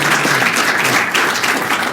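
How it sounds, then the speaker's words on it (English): Dense, sustained applause from a crowd at a comics convention new-talent panel honoring the judges, a steady wash of many hands clapping close by. "a huge round of applause for our judges"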